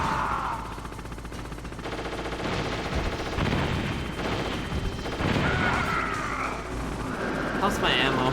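Rapid gunfire from the video game Metal Gear Solid, dense bursts of shots over a busy game soundtrack, steady and loud throughout with a voice talking over it.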